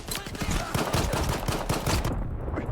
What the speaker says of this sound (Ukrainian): Постріляємо трошки, трошки екшена додамо в відос.